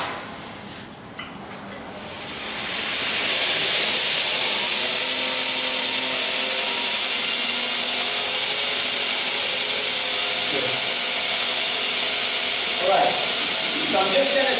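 A blacksmith's grinder spins up at its rough grind speed of about 120 feet per second, a loud steady whirring hiss that builds over the first few seconds and then holds, with faint scraping under it.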